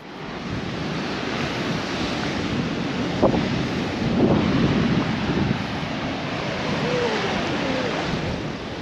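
Steady, strong wind roaring against the microphone on a beach in Baja, with surf washing in the background throughout.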